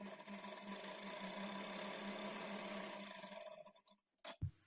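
A sewing machine top-stitching a blouse lining hums steadily and close for about four seconds, then stops, followed by a couple of soft handling knocks.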